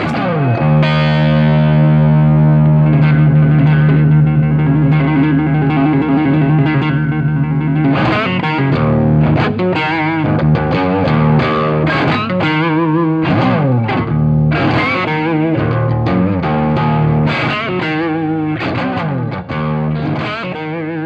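A distorted electric guitar through a Softube amp simulator rings out a sustained chord, then shifts into busy, driving riffs, loud and continuous with no talking.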